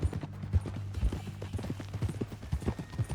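Horse hooves clip-clop at a steady walking rhythm in Red Dead Redemption 2, close and fairly loud, with soft low thuds repeating through a ranch conversation and faint background ambience.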